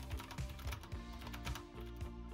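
Typing on an Azio Retro typewriter-style keyboard with clicky switches: close, steady keystrokes clatter in an even rhythm, each press giving a sharp click with no voices.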